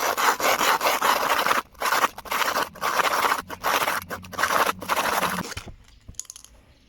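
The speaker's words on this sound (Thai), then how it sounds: "ผมก็จะใช้กระป๋องสีนี่แหละนะครับ มาถู ถูไปเรื่อย ๆ ครับ" A paint can's rim is rubbed hard against another paint can in a steady run of harsh, gritty scraping strokes broken by short pauses, close and loud, ending in near silence.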